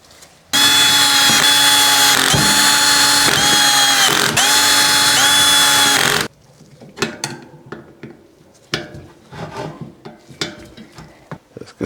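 Cordless power tool driving Loctite-coated brake rotor bolts into a Trek bike hub: a loud, close whir that pulses several times as each bolt seats, then cuts off into scattered quieter clicks and handling noise.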